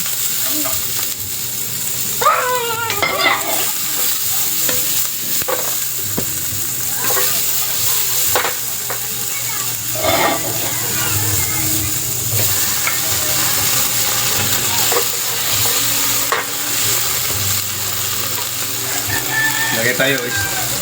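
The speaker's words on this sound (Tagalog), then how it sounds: "So ayan na, gisa na natin." Baby octopus and okra sauté in a hot pan outdoors, a loud continuous sizzle with stirring scrapes throughout, while voices and background sounds such as children and passing motorbikes come through faintly.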